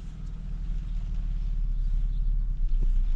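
A BMW 530i with a fault idles roughly, its engine hunting for a steady idle. A low, close rumble swells slightly toward the end, with no speech.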